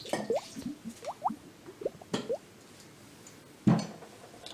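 Milk poured into a honey curry chicken wing marinade: a quiet run of soft, wet plops and drips in uneven rhythm, then a pause and one louder splat near the end.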